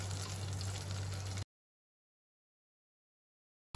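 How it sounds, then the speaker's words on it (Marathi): Finely chopped garlic sizzles in hot oil in a steady hiss over a low hum, cut off abruptly into silence before the sizzle briefly returns. "तेल गरम झाले, त्यामध्ये आपण लसूण घालूया।"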